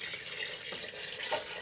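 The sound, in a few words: pouring three cups of water into blackberry pie filling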